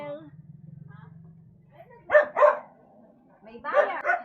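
A few close, sharp barks from dogs at a house come in two short pairs, with a low hum and talking around them.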